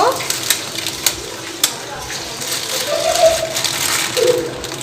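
Cardamom pods and a bay leaf sizzle in hot white oil, a steady frying hiss with small clinks and rattles of the pan and a few sharp pops, heard close under a voice.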